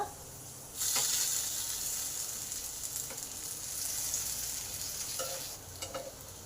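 Potatoes sizzle loudly in a hot covered pan, a constant bright hiss broken by a few short stirring scrapes, while cooking with teasel gourd (kakrol).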